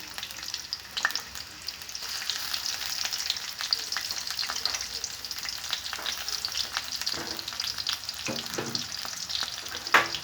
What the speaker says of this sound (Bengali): তেলের মধ্যে দিয়ে দিলাম পেঁয়াজ কুচি।